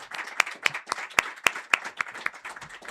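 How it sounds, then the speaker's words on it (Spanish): Applause for Natalia Piergentili on a Chilean talk show, with sharp individual claps standing out from a light, steady patter of hands over three seconds. "un fuerte aplauso, un fuerte aplauso,"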